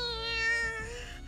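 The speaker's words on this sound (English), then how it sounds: "Makina lets out a feline cry" A cartoonish feline cry from Makina in the visual novel game The Fruit of Grisaia, a short wavering meow-like call that rises and falls over about a second, loud and alone with no talk.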